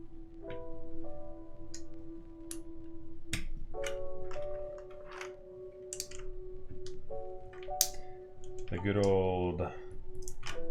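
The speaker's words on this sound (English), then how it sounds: "I've never mounted these cream alphas before." Cream alpha keycaps are pressed onto a prototype keyboard with Holy Panda switches, making scattered sharp, light clicks and taps over steady background music.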